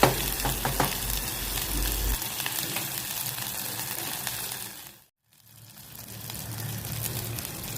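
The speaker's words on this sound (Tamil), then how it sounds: "இது எல்லாத்தையும் நம்ம நல்லா மிக்ஸ் பண்ணி விட்டுக்கலாம்." An onion and tomato paste is stirred and fried with curry leaves for a Tamil brinjal gravy, giving a steady, close sizzle with stirring scrapes that stops briefly and then resumes.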